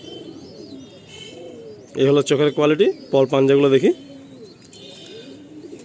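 Pigeons kept at a home loft coo softly in the background while someone talks loudly in short bursts over them.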